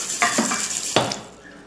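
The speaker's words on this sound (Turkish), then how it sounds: "Ve şimdi de pilav tenceremi yıkıyorum." A rice pot being washed under running water in a kitchen, with a steady water rush and two distinct clanks of the metal pot against the sink, fading slightly toward the end.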